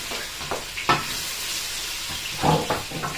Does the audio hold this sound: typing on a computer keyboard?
no